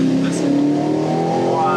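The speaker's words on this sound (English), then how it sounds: "the car is super loud from the outside" An Aston Martin Vantage sports car engine drones and rises in pitch as it revs, heard from inside the cabin, fairly loud and continuous.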